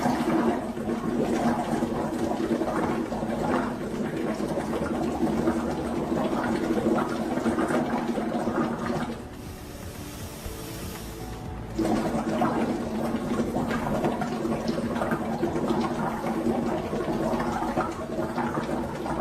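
Carbon dioxide gas bubbles into water samples with a continuous gurgling, frothy rush. The bubbling drops away briefly partway through, then resumes at the same strength.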